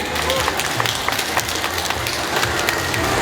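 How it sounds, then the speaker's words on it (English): An audience at a Rotary district event applauds steadily throughout, dense clapping with a crowd murmur and no clear speech on top. "Give yourself a good hand, a big hand."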